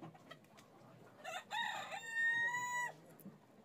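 A Fayoumi rooster on a small poultry farm gives one long, clear crow that rises and then holds steady, with soft clucking and scattered farm noise around it.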